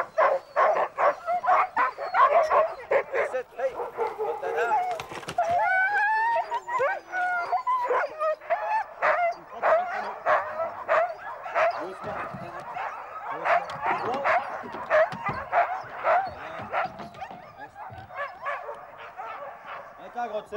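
Sled dogs yip, whimper and bark repeatedly at close range while being harnessed outdoors in Québec, their excited calls overlapping continuously, with a person speaking among them.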